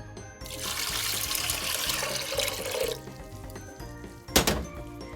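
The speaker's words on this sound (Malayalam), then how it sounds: "ഒരു 3 കപ്പ് വെള്ളം ഞാൻ ഒഴിക്കുന്നുണ്ട്." Three cups of water are poured into a pressure cooker holding dal for Kerala-style sambar, a splashing gush of about three seconds followed by quiet and then a single hollow thunk.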